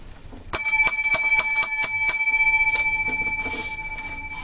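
Seven bright metallic bell strikes ring out in quick, even succession, loud and close, then a few softer rings and a lingering shimmering decay with no talk.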